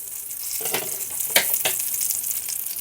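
Steady, soft sizzling of pea-filled choux-dough pastries frying in hot oil, with a few brief louder crackles and clinks, close by and without voices.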